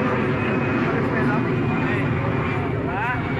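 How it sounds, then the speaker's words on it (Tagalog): A drone flies overhead, its steady droning whir sustained throughout beneath people talking outdoors, the pitch wavering slightly as it moves. "Yung drone nung nililipad na."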